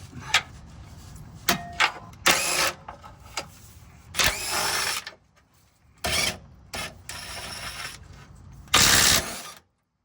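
Breaker bar and ratchet working on bolts during a Toyota transmission removal, heard as bursts of ratcheting clicks and metallic mechanism noise separated by pauses, close and fairly loud, with no talk.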